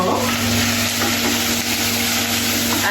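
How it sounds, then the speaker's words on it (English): Ginger, garlic and onions sizzle steadily in a pan over moderate heat, a continuous dense hiss of frying with a faint electrical hum beneath and no talk. "now I'm just going to let that sizzle off."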